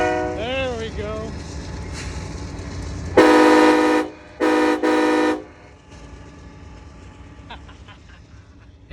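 A custom train horn setup installed on a vehicle blasts three loud, sustained chords in quick succession, very close, after a stretch of talking and background noise.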